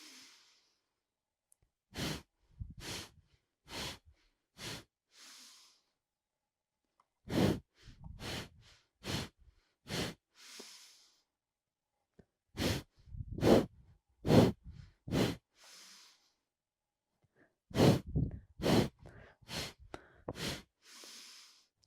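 Breath of Fire breathing exercise: four bursts of rapid, forceful, rhythmic breaths, each run of six or seven sharp pulses separated by short pauses, loud and close with no talking.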